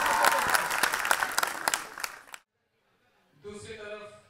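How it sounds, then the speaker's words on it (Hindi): Applause at a university Holi celebration, a loud burst of crowd clapping lasting about two seconds and fading out, then after a short silence a voice speaks over the room. "जोरदार तालियां इनके लिए।"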